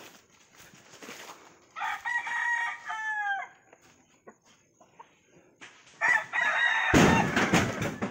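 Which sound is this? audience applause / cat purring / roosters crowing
roosters crowing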